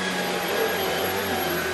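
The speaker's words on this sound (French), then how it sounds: "elle a toujours peur de l'aspirateur" A household vacuum cleaner runs steadily nearby, a constant broadband whir with a low hum and no pauses.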